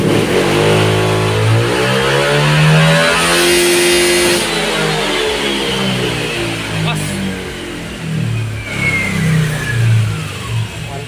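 A Honda Click 125i scooter engine with a freshly remapped stock ECU revs up loudly and close, its pitch rising and falling through repeated throttle blips with no pause.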